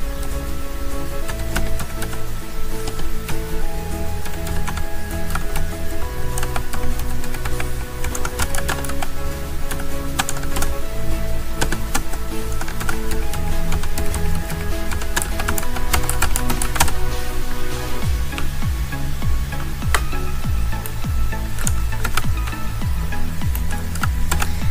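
Rapid, continuous keystrokes on a computer keyboard, close and fairly loud, clattering without pause over a soft background tone and no speech.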